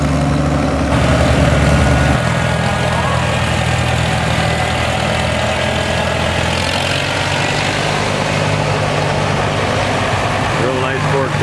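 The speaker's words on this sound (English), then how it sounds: "Sounds like a diesel." A diesel tractor engine, an International 460 at a tractor show, idles loud and close with a steady low throb, changing tone after a couple of seconds, with voices talking nearby.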